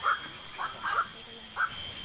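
A black-crowned night heron in the Philippines gives four hoarse, croaking 'quok' calls at uneven intervals, moderately close, against a steady background hiss.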